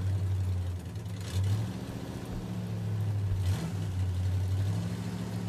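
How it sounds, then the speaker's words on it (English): Truck engine in the video game Human Fall Flat, a steady low idle-like drone with a few short revs that rise and drop, close and fairly loud, with no voices over it. "Oh, this truck sounds so good."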